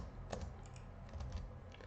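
Keys tapped on a computer keyboard while writing Arduino code, a quiet, uneven run of soft clicks with a few sharper strokes, close up and alone without talk.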